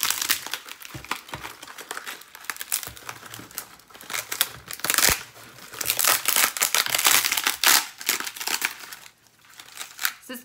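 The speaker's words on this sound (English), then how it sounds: "as I'm peeling this off, this is what the inside of our loofah looks like." The skin is peeled off a dried luffa gourd at harvest. Close, loud, continuous crackling and crinkling comes in dense bursts of brittle snaps and tears over about ten seconds, with no talking.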